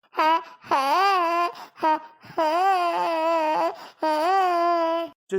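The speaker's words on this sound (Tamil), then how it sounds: "பாப்பா அழுதுட்டு தான் இருக்கு" A baby cries in three long, loud wailing bursts with short breaths between, the voice rising and falling, close by and with no talk over it.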